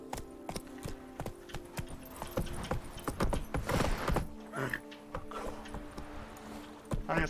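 Roach the horse's hooves clip-clopping along a bridge in The Witcher 3, a steady walking rhythm of close, distinct hoof strikes with some game ambience and occasional other sounds.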